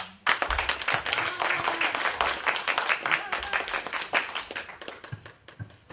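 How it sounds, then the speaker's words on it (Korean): An audience at a Korean orientation event bursts into warm applause, many hands clapping in dense, sharp bursts, loud and close, that gradually thin out toward the end. "가장 뜨거운 박수 부탁드립니다"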